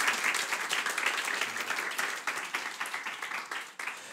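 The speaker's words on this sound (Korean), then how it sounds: "우리 주님께 큰 영광의 박수 올려드릴까요?" Congregation applauding during a Wednesday church worship service, a dense, steady wash of many hands clapping fairly close, holding through most of the stretch and thinning slightly toward the end.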